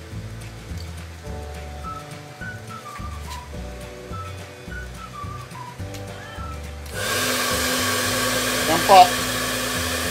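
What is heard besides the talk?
hair dryer running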